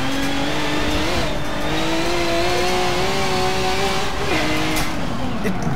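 A Group 5 race car in Forza Motorsport accelerating hard, heard as a loud, close engine howl that climbs in pitch, dips briefly at a shift, then keeps rising, continuous throughout.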